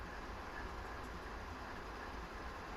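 Train rolling along the Sherman Hill line in a railroad simulator game, a steady continuous rumble of wheels and engine with no distinct breaks.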